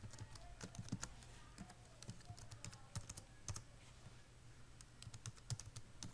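Typing on a computer keyboard while entering C++ program code, a steady run of quiet, irregular key clicks with no talk over them.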